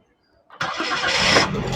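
A Daihatsu Sigra Type R car engine cranks and catches after a short near-silent pause, then settles into a steady, loud running note close by, with no talk over it.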